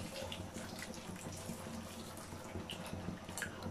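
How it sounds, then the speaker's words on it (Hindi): Hot water is poured over dried apricots and tamarind in a bowl, making a soft, continuous splashing trickle at close range, fairly quiet and without talk. "अब पानी इसमें डालते हैं"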